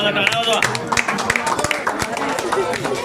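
Schoolchildren clapping at a science day event in a village school, a burst of scattered hand claps mixed with crowd hubbub and nearby voices of children and adults.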